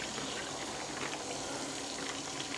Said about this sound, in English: I can just rinse the bags out a little bit